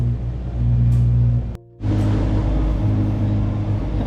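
A sailboat motors under engine power with a steady, low diesel rumble and hum close by. The sound cuts out briefly in the middle, then the engine drone resumes.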